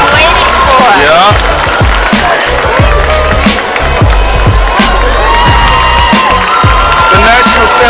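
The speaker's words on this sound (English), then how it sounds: "let's give all of the sororities on this stage a huge round of applause right now" A crowd at a sorority step show roars with loud, dense cheering, whooping and clapping, a continuous close wall of noise with shouts rising throughout.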